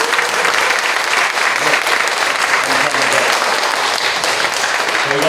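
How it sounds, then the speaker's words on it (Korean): Steady, dense applause from a church audience at a choir concert, many hands clapping evenly for several seconds close by and fairly loud, with no pauses. "재미있으면 박수 한번 쳐주세요"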